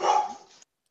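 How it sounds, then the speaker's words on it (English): One loud, close dog bark rings out indoors and trails off quickly into silence. "Who let the dog out?"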